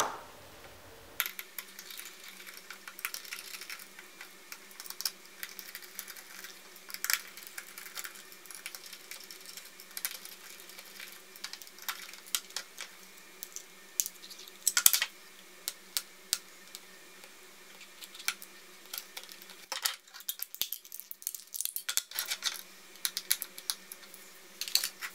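A Torx T6 screwdriver backs tiny screws out of a laptop hard drive, making light, irregular clicks and scrapes at close range in a quiet room.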